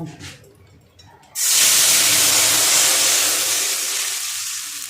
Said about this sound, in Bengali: এবার আমি কড়াইয়ের মধ্যে জল দিয়ে দেব